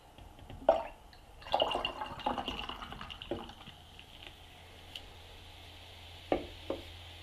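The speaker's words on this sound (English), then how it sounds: "I'm going to try and get a better pour on that and refill it." Beer being poured into a glass, with soft splashing, gurgling and fizzy crackle that starts, swells briefly and trails off into quiet drips and a couple of clinks, close and fairly faint.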